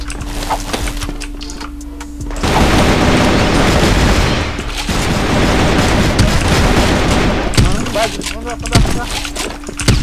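CrossFire online shooter gameplay with dense, loud bursts of rapid gunfire and a grenade blast, coming in heavy waves separated by quieter moments, while players' voices sound over the action.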